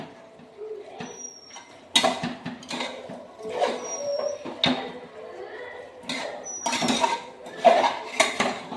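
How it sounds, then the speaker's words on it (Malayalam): Beef stirred in a cooking pot, with repeated scraping and clinking of a utensil against the pot in irregular bursts, close and moderately loud. "ബീഫ് മാത്രം കഴുകി വൃത്തിയാക്കിയ ബീഫ് നമുക്ക് ഇതിലേക്ക് ഇട്ട് കൊടുക്കുക. എന്നിട്ട് നന്നായിട്ട് ഇളക്കി കൊടുക്കുക."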